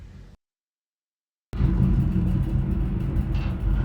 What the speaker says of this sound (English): the capsule comes in for our landing